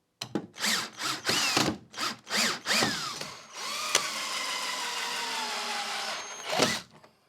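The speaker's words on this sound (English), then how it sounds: "we're gonna drive in the screws" A power drill drives screws into a clamped wooden cross brace, with short repeated bursts of whirring followed by one longer steady run as a screw seats, loud and close with no talking.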